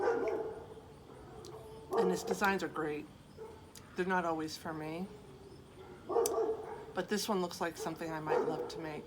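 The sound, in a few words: dog barking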